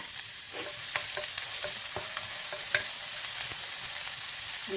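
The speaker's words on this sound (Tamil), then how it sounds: "கொஞ்சம் எண்ணெய் ஊற்றிக்கலாம் இது கொஞ்சம் கூட வேணும் எண்ணெய் நான் பூண்டு மொதல் சேர்த்துக்கிறேன்" Garlic frying in oil in a pan, a steady close sizzle with occasional small pops and light stirring scrapes throughout, with no talk.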